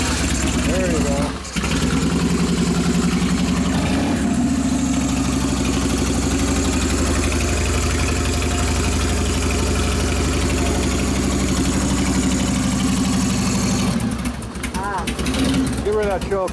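A Harley Evo engine in a rigid custom chopper idles steadily after a choke-assisted start, a loud, close, continuous lumpy rumble that holds for the whole stretch, with a voice now and then over it.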